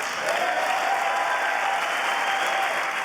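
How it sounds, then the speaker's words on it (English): Democrats in Congress applaud during a presidential speech in the House chamber, a dense, loud, sustained wave of clapping from a large crowd that holds steady throughout. "stoic as Democrats applauded the speech"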